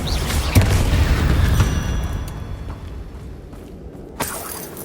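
A Confringo blasting spell explodes in Hogwarts Legacy, landing as a loud booming blast that fades over several seconds, with a sharp crack near the end.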